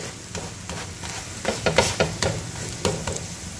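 Coriander thalipeeth roasting in oil on a pan over medium heat, with a soft continuous sizzle and several scraping strokes of a spatula in quick bursts, close and fairly loud, no voices.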